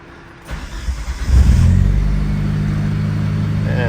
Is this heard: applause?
no